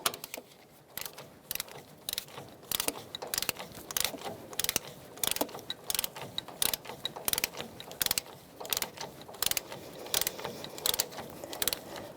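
A ratchet clicks in quick bursts while tightening the bottom shock absorber bolt on a 2002-2005 Ford Explorer, close and fairly quiet, with short pauses between runs of clicks.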